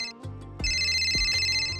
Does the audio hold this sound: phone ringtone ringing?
yes